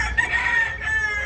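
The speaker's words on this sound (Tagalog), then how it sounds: "At nakita nyo na yung mga manok natin." Chickens and a rooster on a farm crow and cluck in a short, loud burst, the crowing carrying steadily over soft background noise with no talking.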